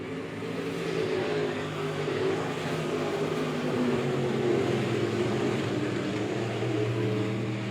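B Modified race cars roar around a speedway oval in a steady, loud engine drone, several cars running close together with the pitch rising and falling as they pass.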